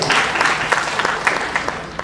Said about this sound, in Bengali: আমরা উনির জন্য কি একটা হাততালি দিতে পারি না সবাই?